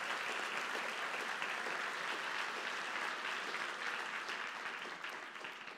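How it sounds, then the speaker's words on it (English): Sustained audience applause from a large crowd of roughly 800 at a movement event, steady dense clapping throughout that thins slightly toward the end, with no voices over it. "So one more round of applause for that."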